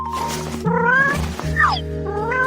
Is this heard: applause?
no